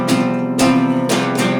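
Acoustic guitar chord, fingered 0-3-3-0-1 from the low E, strummed three times in a steady rhythm, each strum ringing out close and clear.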